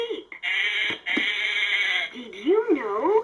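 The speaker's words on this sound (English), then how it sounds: "Hear our sheep sound." A LeapFrog Farm Animal Mash-Up toy plays an electronic sheep bleat, a steady buzzy tone lasting about two seconds, followed by a short wavering musical jingle, loud and close.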